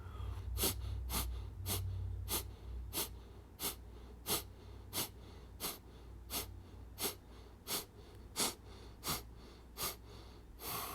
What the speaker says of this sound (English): you can also execute a gentle, slow round of breath of fire here